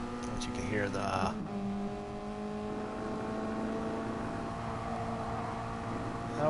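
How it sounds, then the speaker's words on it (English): A car in a racing video game with a turbocharged four- or three-cylinder engine drones steadily at moderate level, with a brief rising rev near the start, under faint commentary. "don't know what kind of motor it's supposed to be in this car. Turbocharged 4-cylinder or 3-cylinder, it's hard to say."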